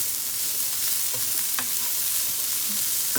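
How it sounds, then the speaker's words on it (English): Pork fat rendering in a soup pot for pea soup, a steady close sizzle with soft crackles and occasional pops, no talking. "And you let the fat break down a little bit."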